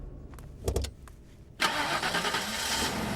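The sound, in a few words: car engine starting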